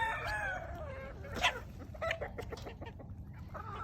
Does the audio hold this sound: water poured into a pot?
no